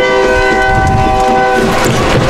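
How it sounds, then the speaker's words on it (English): Train horns hold a long, loud chord behind a soccer match, then cut off partway through while rail rumble and broad outdoor noise from the field carry on. "with the horns of the train in the back"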